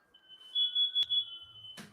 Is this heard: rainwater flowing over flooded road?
no